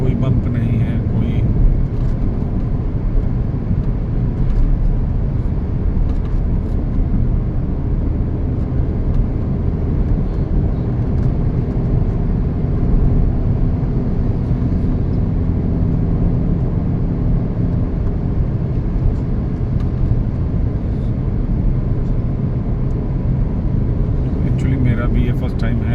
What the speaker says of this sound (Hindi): इजीली गाड़ी क्रूज हो सकती है इस पर बहुत अच्छे से